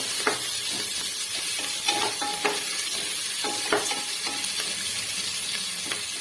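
Chopped onions fry in a pan for broken-wheat upma, with a steady sizzle and repeated clicks and scrapes of stirring spread across the whole stretch.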